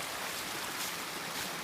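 A creek running beside a mountain hiking trail on the Catawba Valley Trail in Virginia, a steady broadband rush of flowing water, close and continuous with no voices.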